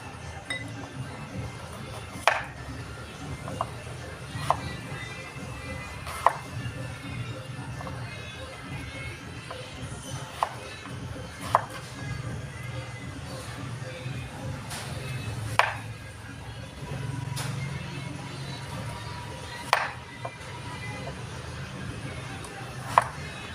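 A knife splits pieces of taro on a cutting board, making sharp, crisp knocks at a steady pace about every two seconds over a low background murmur.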